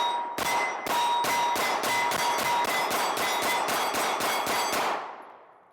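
A Canik MC9LS 9mm Turkish pistol fires a rapid string of about fifteen loud, sharp shots in steady rhythm, each with a ringing clang, then the sound fades out.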